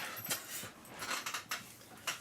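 A dog gives short, thin whimpers in a home, several brief high cries close by in quick succession with no talk over them.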